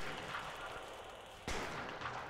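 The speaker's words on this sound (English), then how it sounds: "they've taken the shotgun somehow and they're firing at other people" Shotgun fire in the prison-management game Prison Architect: a continuous burst of gunfire with a sharp, loud blast near the middle, set against steady game ambience.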